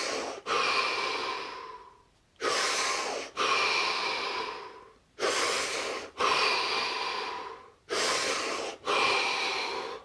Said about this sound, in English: 5 deep, expansive breaths